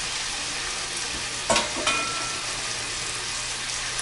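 Chicken pieces browning in a hot pan for a fajita-style bowl, giving a steady broadband sizzle throughout with a couple of brief clicks or stirring bumps partway through, no voices.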